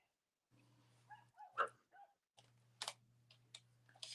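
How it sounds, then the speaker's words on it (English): Dogs barking at home near a swimming pool installation, faint and some distance off, in short bursts over a steady low hum with light tapping. "My dogs are going crazy."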